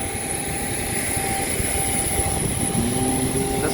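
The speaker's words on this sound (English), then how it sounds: "This is the aircraft, Akasa BTYAB," Akasa Air Boeing 737 MAX 8 at the airport, a loud steady engine roar and whine with a constant high tone, continuous throughout with no talking.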